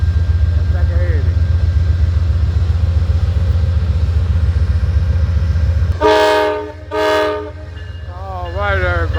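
Amtrak train 80 pulling into Petersburg station, with a loud low rumble of the locomotive and rolling cars, then two long blasts of the horn close by and a final shorter horn call.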